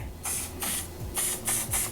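Five quick hissing bursts from an aerosol hair glue spray can onto a lace wig hairline, evenly spaced and close by.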